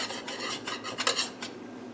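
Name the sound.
butter knife run around the edges of a bread pan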